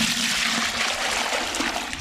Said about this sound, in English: We pour it in here.